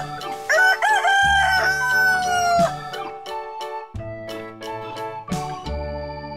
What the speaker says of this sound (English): Con gà. The chicken. The chicken.